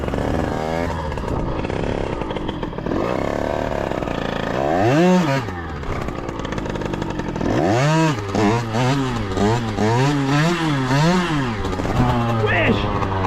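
A 50cc motorcycle engine revs hard during a standing wheelie, buzzing high and rising and falling in sharp repeated surges, loud and close, with the pitch climbing and dropping several times.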